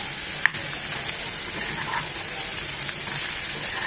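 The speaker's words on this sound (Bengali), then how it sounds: "একটু নাড়াচাড়া করে হালকা করে ভেজে নেব।" Boiled, mashed cauliflower fries gently in a pan for a Bengali bhorta, giving an even, close hiss with a faint clink of a utensil near the start.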